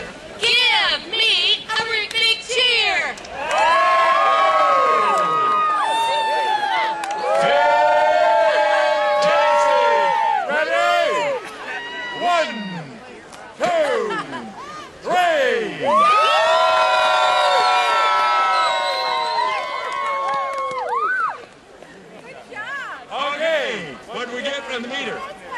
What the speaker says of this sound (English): Give me a big cheer!